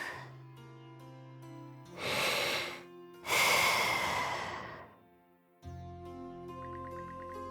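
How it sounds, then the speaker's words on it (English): Slow, steady sleeping breaths of Karja, a character in the video game Ys X: Nordics, two long audible breaths set against soft game music, close and gentle, with no talking. "Sound of Karja's steady breathing fills the air"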